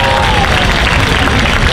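Steady, loud applause from a cosplay contest audience, a dense wash of many hands clapping with a few faint cheers mixed in.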